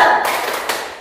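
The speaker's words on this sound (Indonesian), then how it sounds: "kita tepuk semangat dulu deh, biar makin semangat." Children clapping together in a rhythmic spirit clap during a Sunday school service: two close, crisp claps about half a second apart, each ringing briefly in the room.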